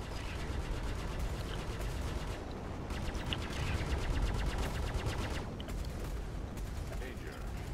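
Star Citizen ship weapons fire in long rapid bursts, a dense mechanical rattle under a looping synthetic alarm voice, with brief pauses between volleys.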